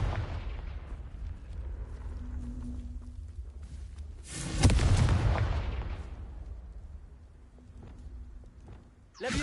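A single sharp blast from the Confringo blasting spell in Hogwarts Legacy cracks out midway, followed by a rumbling, fading tail over a low game background.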